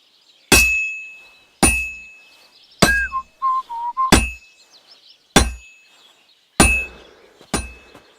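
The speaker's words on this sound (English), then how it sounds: "Now take the hammer and try hitting it a few times." A blacksmith's hammer strikes a sword on an anvil in Kingdom Come: Deliverance II. Seven loud, ringing metallic clangs land at roughly even intervals, each decaying quickly, with a short whistling tone between two of the blows.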